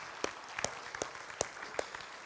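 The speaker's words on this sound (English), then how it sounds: "Give the Lord a hand clap." A church congregation claps in scattered, uneven hand claps, a handful of distinct sharp claps spread over two seconds, fairly faint and without talk.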